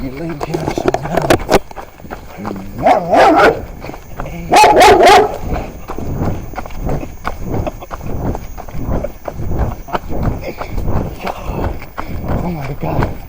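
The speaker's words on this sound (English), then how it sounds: "Dog." Dog barking in short bursts of two or three barks, close and loud, with people talking and footsteps around it.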